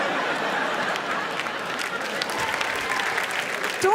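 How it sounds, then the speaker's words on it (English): Steady applause from a crowd, dense clapping that fills the whole moment at an even level, with a faint murmur of voices underneath. "Don't applaud them."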